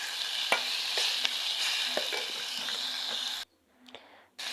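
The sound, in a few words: onions and tomatoes stirred with paste, sautéing in oil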